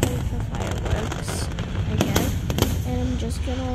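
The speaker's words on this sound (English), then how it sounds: "Just gonna like play the fireworks," Fireworks bursting and crackling at night on Penghu, a dense run of pops and bangs of varying loudness, with a few brief tonal whistles near the end.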